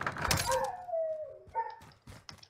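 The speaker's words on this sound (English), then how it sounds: "That's my dog howling at the sirens because they just called the fire department" A dog, part wolf, howls at sirens in a long wavering wail that slides downward, then breaks into shorter whimpering howls and a few thumps, close and alone.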